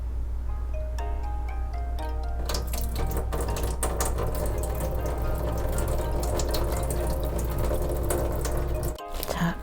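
Water poured off from a bowl of grated potatoes, a steady close liquid splash and trickle running for nearly ten seconds with faint clinks, ending abruptly.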